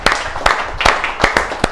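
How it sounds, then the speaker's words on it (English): A round of applause from an audience at a business networking event, a short burst of dense crowd clapping with a few sharper claps standing out near the front. "I would like to start off with a round of applause for yourself for turning up"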